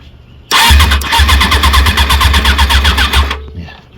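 A 1994 Suzuki RF600R motorcycle engine cranks over for about three seconds in a loud, rapid, even rhythm, starting abruptly and cutting off sharply, heard up close in a quiet space.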